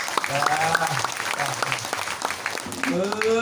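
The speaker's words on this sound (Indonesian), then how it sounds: "Tepuk tangan untuk Pak Kapolres." An audience at an Islamic boarding school zikr gathering claps steadily for a police chief, a dense run of handclaps under a talking voice.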